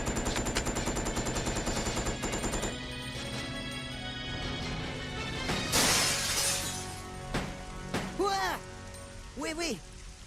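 Gunshots and shattering hits in the survival horror game Resident Evil Code Veronica X, several sharp cracks over a musical backdrop, joined by voices shouting and speaking.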